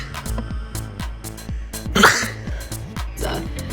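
A nose blow followed by a sneeze, close up, with sharp rhythmic bursts of breath and a louder burst in the middle, heard alone without talk.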